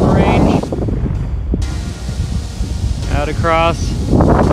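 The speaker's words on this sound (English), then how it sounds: "Up here, where it's really windy, at the top of the dunes" Strong wind at the top of the sand dunes at White Sands, buffeting the microphone in loud, broad rumbling gusts while a person speaks over it.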